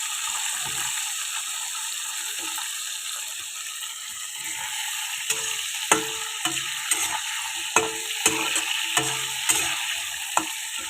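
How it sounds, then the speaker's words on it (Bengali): Potatoes fry in oil in a pan with a steady, close sizzle, broken by a run of sharp spatula clicks and scrapes in the second half; no one speaks. "আলুটা ভেজে তারপরে বেগুনটা ভাজবো"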